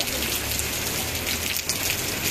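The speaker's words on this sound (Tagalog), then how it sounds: "Sarap pag ganito ang klima, umuulan" Steady rain falling on surfaces in Davao City, a continuous dense hiss of drops close by without pause, alone with no voices.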